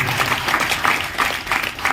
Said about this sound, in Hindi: चाइना सर के लिए पर जोरदार ताली होना चाहिए